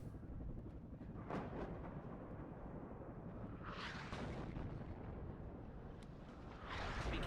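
Artillery shells landing on a Strela in the WARNO video game: a continuous low rumble broken by several heavy, booming impacts, some close and loud, under a steady dense roar.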